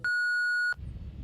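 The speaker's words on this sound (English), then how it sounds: "Leave me a message at the beep." A single clean electronic voicemail beep on a phone, a steady pure tone lasting under a second, followed by faint low background noise.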